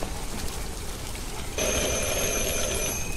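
Partway through, a telephone's electronic ringing tone in the video game Detroit: Become Human starts and holds steadily over a background of rain hiss, with no voices.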